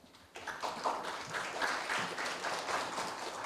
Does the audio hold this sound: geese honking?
no